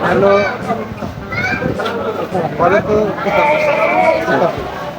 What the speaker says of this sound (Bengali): কোন জাতের ছাগল এটা?